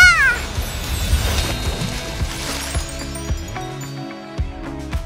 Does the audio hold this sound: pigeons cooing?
no